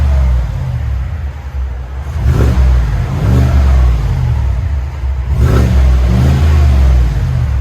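2020 Chevy Silverado with a 6.2L V8 and Magnaflow exhaust revving hard into the rev limiter, two loud rising bursts with a deep rumble between them; close and loud, no talk.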